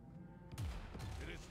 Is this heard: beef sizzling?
no